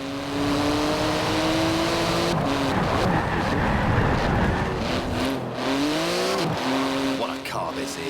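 A 700-horsepower sports car with a 3.8-litre twin-turbo flat-six engine and carbon-fibre body, heard driving with a loud, close engine note rising and falling through gear changes, tyre noise and a voice speaking over it.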